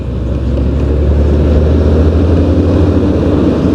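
A loud, steady motorcycle engine drone mixed with rushing wind roar, continuous and close, as if recorded while riding at speed.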